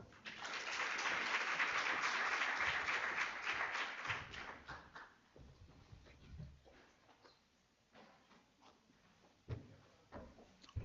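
Audience applause at a research seminar: a sustained burst of clapping from a roomful of people for about four seconds, then thinning into scattered claps and small knocks.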